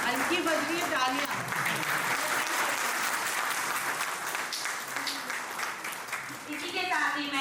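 An audience at a railway retirement function keeps up a steady round of applause, with a voice speaking over the clapping at the start and again near the end.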